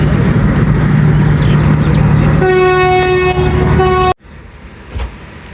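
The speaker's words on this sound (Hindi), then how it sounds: "तो गोल्डा शरीफ से इनिशियल डिपार्चर विसल हो गया है।" A passenger train at Golra Sharif junction sounds a long, loud departure whistle that holds steady for a couple of seconds over the rumble of the stationary train, then cuts off sharply, leaving quieter station ambience.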